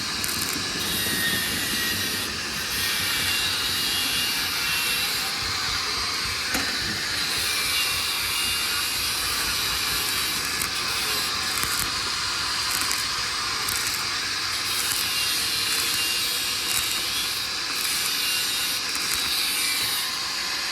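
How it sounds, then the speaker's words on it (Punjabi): An angle grinder grinds down repair welds on a straw reaper's reel pipes, a steady loud abrasive whine and rasp that runs continuously and close with no talk. "ਮਾਲ ਲਾ ਕੇ ਉਹਦਾ ਗ੍ਰੈਂਡਰ ਮਾਰਤਾ"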